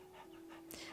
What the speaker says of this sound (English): Oh! Isn't it the dog that the Fox Girl had?